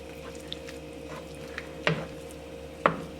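Chicken mac and cheese being stirred in a pot, soft wet squelching with a few sharper spoon scrapes and clacks against the pan, close and quiet without speech.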